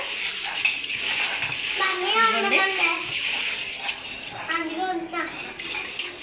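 Water sloshing and splashing steadily as grains are rubbed and swirled in a container, with a voice speaking partway through.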